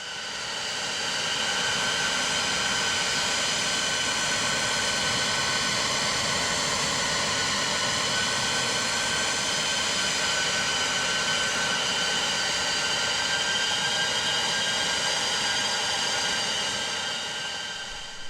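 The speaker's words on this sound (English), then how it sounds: "Listen to her throttling back and starting to descend." Aircraft engine in the X-Plane 11 flight simulator throttling back for descent, a continuous loud droning whine with steady tonal harmonics that holds evenly from start to finish.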